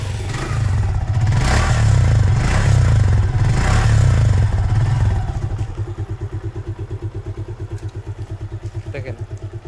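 A Suzuki Gixxer Monotone motorcycle with about 7,000 km revs loudly and roughly for several seconds, then drops to a steady, rhythmic idle thump close by.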